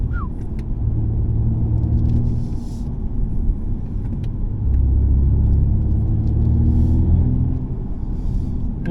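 A BMW M235i xDrive Gran Coupe with a 306 hp engine accelerates along a country road, its steady, deep engine rumble and road roar filling the cabin with a rising drone and no speech.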